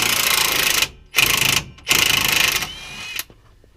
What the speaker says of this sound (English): I think my battery's dying on my little impact gun.